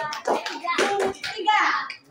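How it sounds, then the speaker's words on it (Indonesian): A classroom of students claps briefly for a group after its presentation, a short patter of hand claps mixed with children's voices. "Tepuk tangan untuk kelompok 3."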